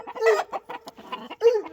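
A rooster (stag) clucks close by in a cage on a game-bird yard, a rapid series of short throaty clucks ending in a longer drawn-out call.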